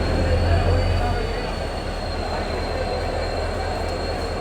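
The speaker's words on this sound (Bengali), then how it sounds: "আমাদের ট্রেন প্রবেশ করলো 23 নম্বর প্ল্যাটফর্মে।" A train pulls into a busy station platform, with steady loud rumbling of rail cars, a faint high wheel squeal and distant chatter from the platform.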